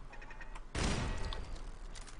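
A single gunshot-like burst in the Fallout 4 video game hits suddenly and loudly, then decays over about half a second above a steady bed of game ambience.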